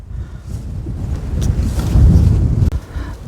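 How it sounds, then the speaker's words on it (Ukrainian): Steady roaring mountain wind buffets the microphone, a low rumbling gust that swells louder toward the end with no voices. "Вітер страшенний"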